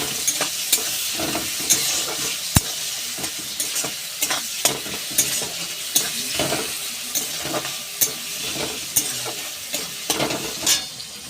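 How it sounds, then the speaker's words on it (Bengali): Onion and tomato, salted, frying and being stirred in a pan for a cauliflower egg curry, with a steady close sizzle broken by regular scraping strokes of a spatula and occasional utensil clinks. "পেঁয়াজ আর টমেটো আমি অনেকটা ভেজে নিয়েছি"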